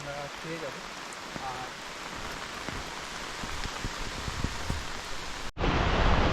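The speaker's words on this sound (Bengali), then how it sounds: "প্রচণ্ড বৃষ্টি হচ্ছে" Heavy rain pours steadily through a forest in the Dooars, a dense, continuous hiss with scattered drops close by, briefly interrupted near the end before the downpour resumes louder.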